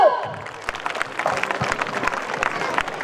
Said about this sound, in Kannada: ನನ್ನ ಸ್ನೇಹಿತರನ್ನು ಜೋರಾದ ಚಪ್ಪಾಳೆ ಮೂಲಕ ವೇದಿಕೆಗೆ ಆಹ್ವಾನಿಸಬೇಕು